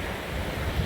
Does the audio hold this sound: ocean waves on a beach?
yes